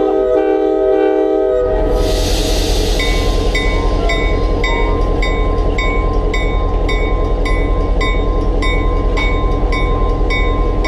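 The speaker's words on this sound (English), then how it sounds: "We'll let the train have a little head start." A train rolls past under a long, loud horn blast that starts about two seconds in, with steady rumble and repeated clicking from rail joints throughout, heard close up with no talking.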